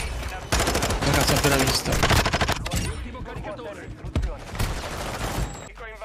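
An MP5 submachine gun fires in a video game, with rapid, loud bursts of automatic gunfire in quick volleys and a short pause, while someone speaks over the shots.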